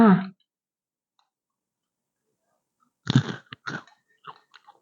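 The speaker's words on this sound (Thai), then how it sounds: "กรอบแคบหมูกรอบ" Crunchy crispy pork rinds being chewed, eaten with papaya salad, a few loud close crunches after a brief burst of speech at the start, with silence between them.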